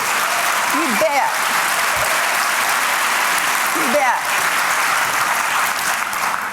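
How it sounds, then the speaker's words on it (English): An audience at Dominican University of California applauds during a talk by a senator, with dense, sustained clapping filling the hall and voices rising briefly over it. "I was applauding over an agency?"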